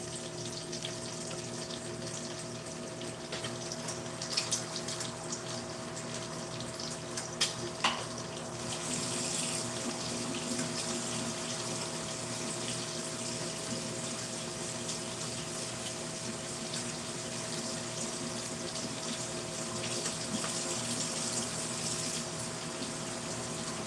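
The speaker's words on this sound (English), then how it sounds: "let me wash the peaches." Tap water runs steadily for peaches being washed in a kitchen sink, a continuous broadband rush with a faint pump-like hum beneath, close and unbroken throughout with no talking.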